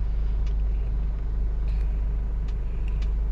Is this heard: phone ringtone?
no